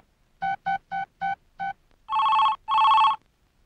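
Phone ringtone sounding five short evenly spaced beeps, then two longer, louder rings, close and clear with no talking.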